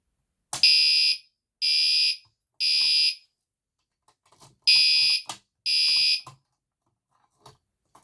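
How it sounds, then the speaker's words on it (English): A fire alarm on an alarm board blares in five loud, evenly spaced electronic horn blasts, each about half a second long, with a short gap in the middle and faint clicks between them. "pull the fire alarm again"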